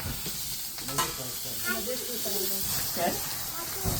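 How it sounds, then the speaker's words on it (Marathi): Paneer fries in a pan in a Kokan village kitchen, giving a steady hissing sizzle with occasional stirring scrapes while people talk close by. "आमचा पनीर फ्राय चालू आहे"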